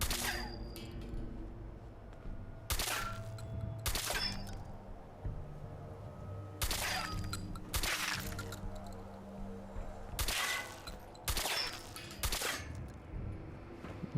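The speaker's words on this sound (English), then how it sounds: "here's my shotgun with the... suppressor. See, it kind of sounds like a freaking BB gun or something" A suppressed shotgun in a video game fires about ten sharp, dry cracks at uneven intervals over a low, steady game background, each shot short and fairly close.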